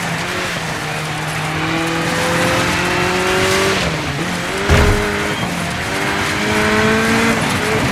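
A rally car engine in the video game DIRT 5 revs and climbs through gears with tire squeal as it slides sideways, loud and continuous, with a brief thump midway.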